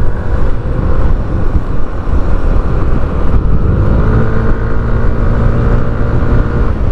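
A scooter fitted with a 1000 rpm performance clutch, built by a specialist scooter shop, runs with a steady, loud engine drone. Its pitch climbs as the engine revs up in the second half.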